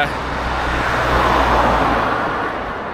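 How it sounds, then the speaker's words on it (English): Steady road traffic rumbles nearby on a route out of León toward Villar de Mazarife, a continuous wash of cars and heavier vehicles swelling slightly mid-clip without a break, with talk heard faintly beneath it. "excuse the traffic."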